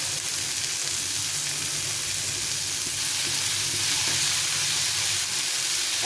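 Capsicum sizzles steadily in a pan over a raised gas flame, a continuous bright frying hiss with faint crackle and no one speaking.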